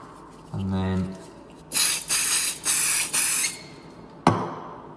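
Activator is sprayed onto filler in a wood-effect laminate worktop repair in four short, close hissing bursts, followed by one more quick spritz. A brief tone sounds just before the bursts.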